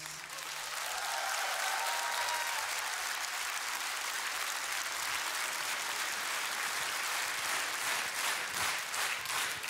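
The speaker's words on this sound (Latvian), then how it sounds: "Paldies par jūsu sirsnīgiem aplausiem" Audience applause at a Christmas concert, a full sustained ovation from a large crowd that swells in the first second and continues steadily near and loud throughout.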